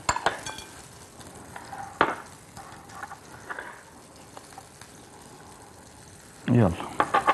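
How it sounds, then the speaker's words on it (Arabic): A marinade of mustard, pomegranate molasses, white honey, salt and pepper being stirred, soft scraping and a few sharp utensil clinks against a bowl, with a louder clatter near the end. "هخليها دي هقلب بيها دلوقتي وهقلب التتبيله"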